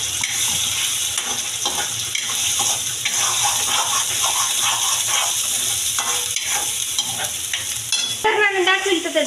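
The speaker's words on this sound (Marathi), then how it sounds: "तर आता आपल्याला हे मसाला टाकून घ्यायचा आहे" Chicken pieces coated in masala fry in a hot pan while being stirred, producing a steady loud sizzle with scraping stir strokes throughout and a brief sharper hiss at the end.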